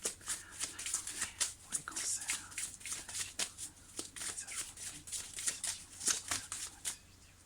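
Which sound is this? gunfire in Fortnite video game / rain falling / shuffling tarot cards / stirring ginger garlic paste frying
shuffling tarot cards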